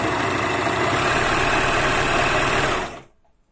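Motor of a Pfaff 1230 OL overlocker running unthreaded with the pedal pressed, a steady loud mechanical whir and hum close by that cuts off to near silence about three seconds in.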